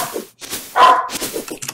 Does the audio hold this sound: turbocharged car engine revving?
no